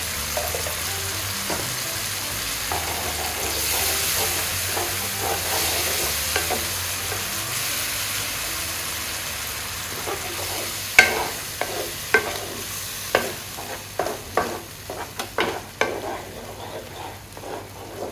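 Fuyunghai sauce thickened with cornstarch bubbles and simmers in a pan, a soft steady sizzle under sharp scraping and tapping as a utensil stirs it, with strokes growing more frequent toward the end.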